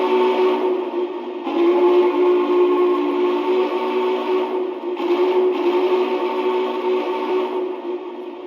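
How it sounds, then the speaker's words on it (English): A Lionel brass Challenger model locomotive sounds its whistle, a loud, close, steady multi-tone steam whistle held in two long blasts with a brief dip between, no voices present. "This is my favorite whistle,"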